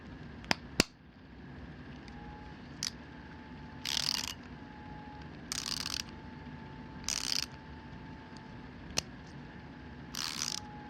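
A SabreCut mini micro hand ratchet wrench with 72 teeth clicks in several short bursts of rapid ratcheting at close range, separated by pauses and a few sharp isolated ticks, against a quiet background.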